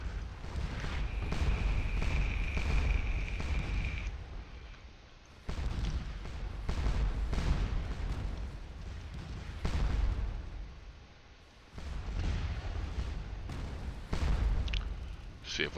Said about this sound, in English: Now we got some guns shooting away here.